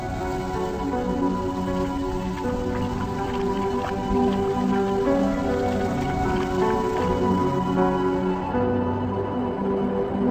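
Rain falls steadily in lion territory on the African savanna at the start of the rainy season, a constant patter of drops with a faint tonal musical bed underneath and no talk.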